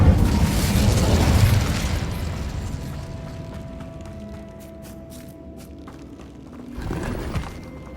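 An Incendio fire spell cast in Hogwarts Legacy erupts in a loud whooshing burst of flame that fades into a low rumble, with a softer thump near the end.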